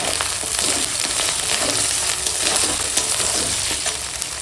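Cumin paste frying in a pan with lightly fried potatoes makes a steady, close sizzle, with stirring scrapes throughout.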